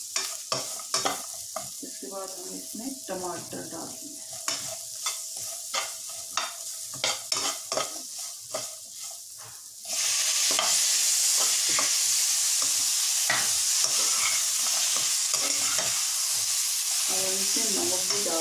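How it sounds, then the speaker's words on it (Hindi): Onions frying in a pan over a low flame, with repeated clinks and scrapes of stirring for the first ten seconds, then a loud, steady sizzle as more ingredients hit the hot oil. "हल्की आग से हम इसको थोड़ा सा पकाएंगे प्याज को हम थोड़ा सा कर लेंगे"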